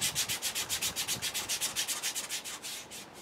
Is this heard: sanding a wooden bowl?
yes